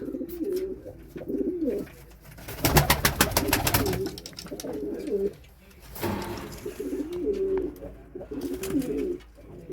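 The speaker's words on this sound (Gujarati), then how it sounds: "બધા કબૂતર ઉડવા વાળા જ છે." Several flying pigeons coo in repeated low, throaty phrases close by, broken midway by a brief burst of fluttering noise.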